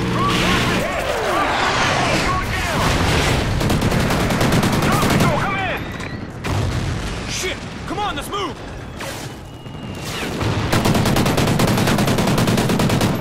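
Dense automatic gunfire and explosions from the Call of Duty: Ghosts video game rattle almost without pause, loud and close, with mechanical clanks and occasional voices under the barrage.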